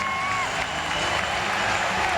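Baseball crowd at a Brewers–Mets game applauding pitcher Al Leiter as he leaves the mound, a steady wash of clapping and cheering in a large stadium, with a broadcaster talking over it.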